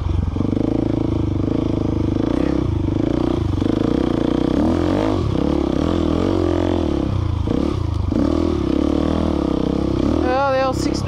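A KTM 690 motorcycle ploughs through soft sand on a desert adventure ride, its engine droning steadily and loudly with surging revs, and scraping and clattering from the terrain throughout.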